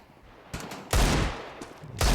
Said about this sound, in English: KMZ wants to connect with some deagle shots